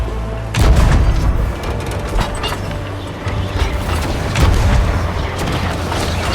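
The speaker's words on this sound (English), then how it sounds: "Ready the cannons!" Heavy booms of ship cannon fire in the Sea of Thieves Tall Tales quest "Lords of the Sea" rumble repeatedly over a dense, noisy battle din, loud and close, with several blasts overlapping.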